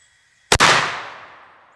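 A medieval-style wooden hand cannon fires a single loud, sharp shot at close range, the blast followed by a long fading echo.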